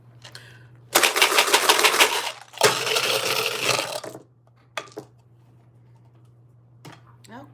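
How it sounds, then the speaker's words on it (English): Dice rattled hard in a container, producing two loud, dense bursts of clattering lasting about three seconds in total, followed by a few faint clicks. "the dice get really loud when I shake them up"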